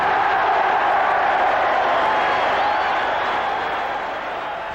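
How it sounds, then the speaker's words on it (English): A rugby league stadium crowd cheers as the Widnes captain is presented with the championship trophy, a broad roar that holds loud and then slowly fades. "Listen to the cheer."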